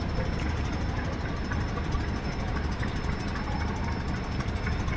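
Diesel engine of the MV Surovi 8 passenger ship leaving Dhaka Sadarghat, a dense, steady, low roar that is loud and unbroken throughout, with no voices.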